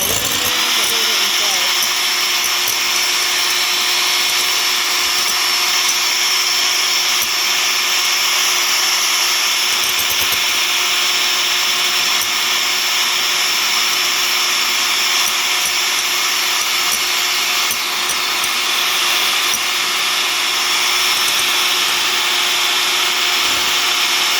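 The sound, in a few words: electric mixer whipping egg whites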